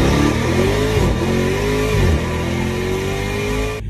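Dodge Demon 170 launching hard off the foot brake, engine roaring loud and steady as revs rise through the run, a brief shift dip midway, then easing off at the end.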